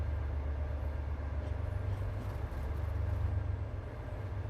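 A DB BR 365 locomotive in Train Sim World 3 runs on the Stockheim to Bad Vibel route, producing a steady, heavy, low engine rumble and rolling drone that holds level throughout.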